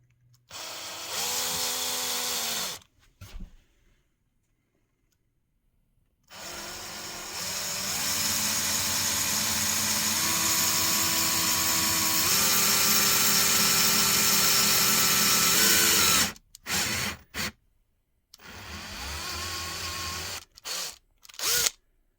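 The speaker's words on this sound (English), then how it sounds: "Now I'm going to countersink them with this tool here." A countersink bit in a power drill cuts countersinks in screw holes, heard as loud, steady whirring in two bursts: a short one, then a long sustained run with shifting pitch, followed by a few brief spurts.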